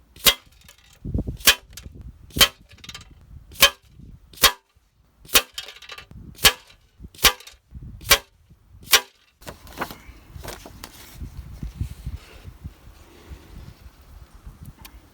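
A Brocock Bantam unregulated .22 air rifle firing Air Arms 16 grain pellets outdoors, about a dozen sharp, loud cracks spaced a second or so apart, then a quieter stretch of faint rustling.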